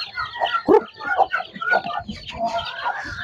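Chicks clucking and peeping busily while they eat, a cluster of short, close chirps and clucks filling a few seconds, with no talk over them.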